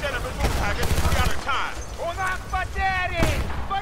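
Rapid gunfire from a weapon fired without a scope in the video game Battlefield Bad Company 2, loud bursts over game noise, with a voice talking over it.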